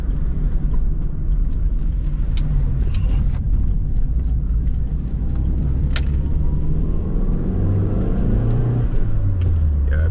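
A 1987 Dodge Shelby Charger turbo engine rumbles loudly and steadily from inside the cabin, rising in pitch as it accelerates, with occasional faint rattles.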